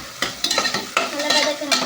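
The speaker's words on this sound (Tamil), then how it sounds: "நல்லா வதக்குறாங்க." Ginger garlic paste with coriander and curry leaves sautéing for a Sunday chicken curry, a close steady sizzle punctuated by about six quick scraping stirs of a spoon against the pan.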